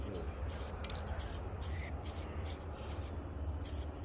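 A BMW M3 E46 subframe is spray painted, with a steady close hiss of spray bursts in a regular on-off rhythm over a low background rumble.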